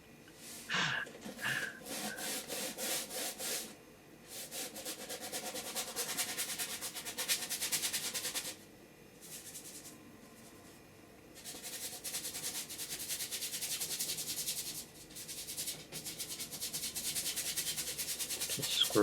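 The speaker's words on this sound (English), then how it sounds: "Just scrubbing in the paint." A paintbrush scrubs oil paint onto canvas for a seascape, a close, dry, rasping rub in long bursts with brief pauses between strokes.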